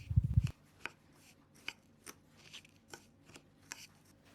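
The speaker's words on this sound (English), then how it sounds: "Mix it with a spoon." Cookie crumbs, oats and liquid butter worked together with a spoon in a bowl: a brief burst of scraping at the start, then sparse, soft scrapes and taps at an irregular pace, close and quiet.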